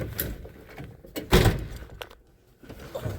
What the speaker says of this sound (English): I think that door shut good